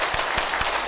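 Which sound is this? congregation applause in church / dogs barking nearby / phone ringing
congregation applause in church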